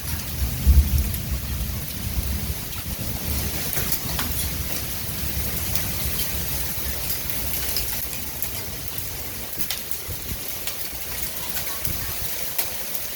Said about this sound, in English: It's bad. It's a bad storm.